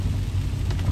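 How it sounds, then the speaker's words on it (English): Heavy rain pours down in a steady, dense wash on a nasty winter day in Memphis, Tennessee, loud and continuous with no voices. "it's turned out to be a pretty rainy, nasty day."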